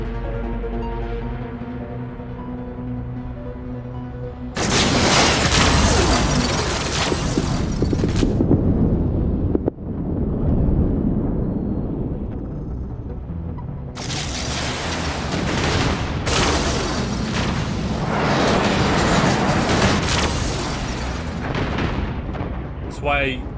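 Missile strikes and explosions crash through a space battle in the strategy game Endless Space 2, with two long roaring barrages of blasts separated by a quieter stretch, loud and dense, while a voice talks over the start.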